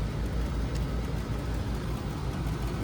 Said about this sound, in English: This is the blower motor.